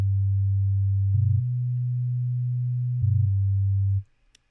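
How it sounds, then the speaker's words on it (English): Pure sine wave sub bass from the Vital synthesizer, a steady low tone held alone for about four seconds, nudged up in pitch by two brief gliding steps before cutting off cleanly. "Now we have our sine wave."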